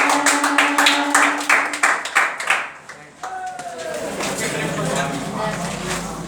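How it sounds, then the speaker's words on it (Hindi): An audience at a school debate contest bursts into loud, close applause that starts as a steady run of rhythmic claps, then swells into a dense wash while a voice talks over the tail. "जोरदार तालियां एक बार।"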